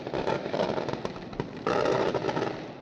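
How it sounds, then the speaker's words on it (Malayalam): Firecrackers burst thickly at a church feast in Malta, a dense, continuous crackle of sharp pops that swells louder near the end. "നല്ല തകൃതിയായിട്ട് ഇതാ ഇവിടെ പടക്കമൊക്കെ പൊട്ടുന്നുണ്ട്"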